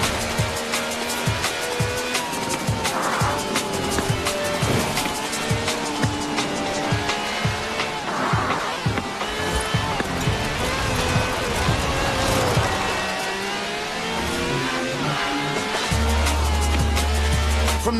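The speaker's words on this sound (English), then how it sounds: "This is a V12 with over 750 horsepower" V12 car engine of over 750 horsepower in the racing game Forza Horizon 4, revving and shifting through rising and falling engine tones, with faint tire noise, loud and continuous.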